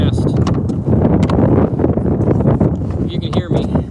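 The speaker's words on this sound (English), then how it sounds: "It's pretty windy out here." Gusty wind buffets the microphone outdoors on the water during a kayak bass fishing trip, a steady rough roar with rumbling bursts, while a voice talks over it.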